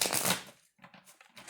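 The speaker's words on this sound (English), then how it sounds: "That was a terrible shuffle." Tarot cards being shuffled by hand, a short burst of riffling papery rustle that fades to quiet, then softer scattered card handling, close and faint.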